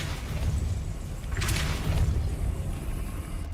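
A Depulso spell blast in Hogwarts Legacy, a single bright whooshing burst landing mid-clip over a steady low rumble of game ambience, loud and close, with no talking.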